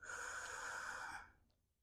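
A long, steady exhale during an intermediate-to-advanced yoga flow: a breathy rush of air that holds for about a second before trailing off into quiet.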